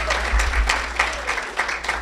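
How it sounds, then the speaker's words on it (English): Audience applause at a library conference session, fairly sparse clapping at moderate level over a low steady hum, brief and fading in and out. "So let's give them another round of applause"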